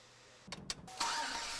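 A car engine, run after a coolant flush and refill, cranks in a few short bursts, then catches and settles into a steady, fairly faint running hum.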